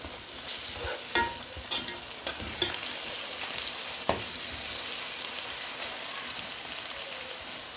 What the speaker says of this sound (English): Here goes my ginger garlic. And I will stir it.